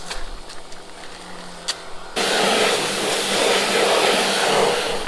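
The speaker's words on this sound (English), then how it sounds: "And I'm gonna hit it with a pressure washer." A pressure washer starts up about two seconds in and blasts a steady, loud hissing spray onto a degreased car subframe, following a quieter stretch of background noise.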